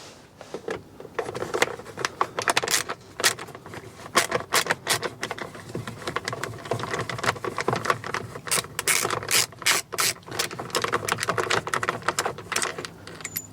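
Long screw, about 1.5 to 2 inches, being backed out of a Jeep Wrangler panel during a remote start install, giving close, irregular ratcheting clicks and mechanical rattles throughout.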